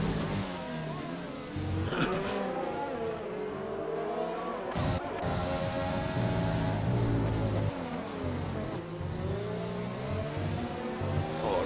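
GP2 race cars at the British Grand Prix, engines droning continuously with rising and falling pitch as three cars run nose to tail, a steady loud roar with a brief sharper burst midway.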